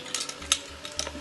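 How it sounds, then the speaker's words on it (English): Vegan three bean chilli stirred in a pan, a few short scraping strokes over a soft simmering sizzle, close and fairly quiet. "Give that a stir."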